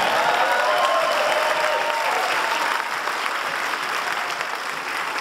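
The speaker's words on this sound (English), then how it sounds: "I just want everybody to give her a round of applause today" Audience at a convention in Chicago applauds steadily, a dense continuous clapping that stays loud throughout, easing slightly toward the end.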